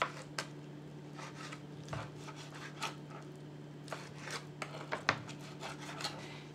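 A knife cuts partly frozen Korean barbecue meat into thin slices, producing soft, faint, irregular slicing and tapping sounds over a steady low background hum.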